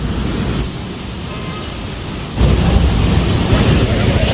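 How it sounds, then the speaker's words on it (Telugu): Water flows and churns at Osman Sagar lake in Hyderabad, a constant broad rushing that swells louder partway through, with wind buffeting the microphone. "బాగానే పోతానండి నీళ్ళు."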